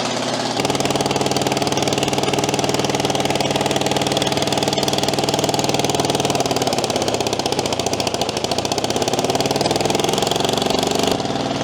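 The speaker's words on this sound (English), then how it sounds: "We're ready to try to fire up the diesel." A 1952 Caterpillar D4 dozer diesel, sitting over ten years, cranks and catches, chugging into a rough, loud running rhythm with clattering knocks that rises and settles over several seconds, with no voices.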